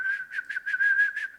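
A person who has only been learning to whistle for a few days holds a steady, clear whistle that pulses in about seven quick beats, close and alone with no talk.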